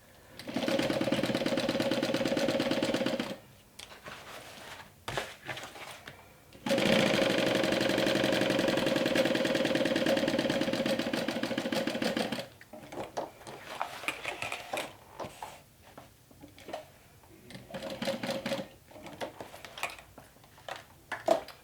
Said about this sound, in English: So now you want to sew that down. along that rectangle you just created.